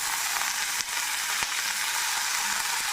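Black nightshade greens and green chillies sauté in a pan, giving an even hissing sizzle throughout, with two brief knocks from stirring.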